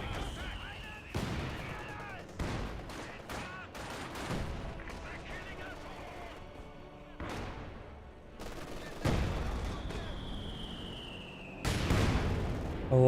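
A Company of Heroes 2 battle rings with bursts of gunfire, machine-gun rattle and booming artillery shell impacts in irregular clusters, loud and close, with a voice talking over the fighting.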